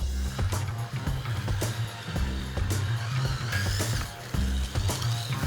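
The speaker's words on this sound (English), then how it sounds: "Now let's see how they do on a Scalextric version of the same test track." Scalextric slot cars race around a test track, their electric motors whining loudly and continuously with repeated sharp clicks and rattles as they pass close by.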